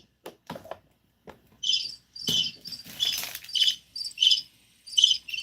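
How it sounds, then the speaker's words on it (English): Rhythmic cricket chirping in short repeated bursts, moderately loud and close, starting after a few brief clicks and continuing steadily with no talking. "I hear crickets."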